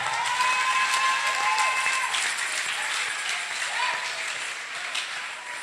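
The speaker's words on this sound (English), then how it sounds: "Clap your hands for the Lord." A church congregation claps their hands at a service with Prophet Kofi Oduro, a dense, steady wash of applause that holds at a fairly even level throughout, with faint voices and a few bright tones mixed in.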